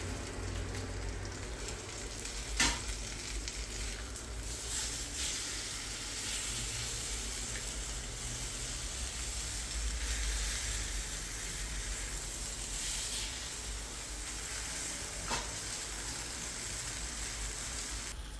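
A roughly 700 g ribeye steak sears in a pan, giving a steady soft sizzle with occasional brief pops and crackles, fairly quiet and uninterrupted by talk.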